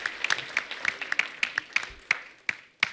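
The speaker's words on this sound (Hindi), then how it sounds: "पाजी के लिए खुल के तालियां" Scattered hand claps from a small audience greeting Akshay Kumar, sharp separate claps at an uneven rhythm, fairly faint and thinning out.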